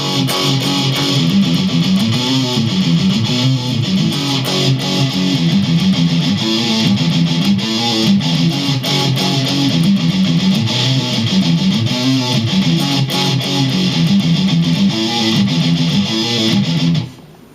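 Rhythm riff played on an electric guitar with a driven, chugging tone, loud and steady throughout with no talking, then stopping abruptly at the end.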